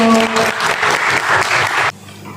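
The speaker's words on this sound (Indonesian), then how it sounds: "Kalau tidak ada, kita berikan aplaus untuk kelompoknya Vero." An Indonesian high school class gives a presenting group a short, dense burst of clapping that lasts about two seconds and then stops abruptly.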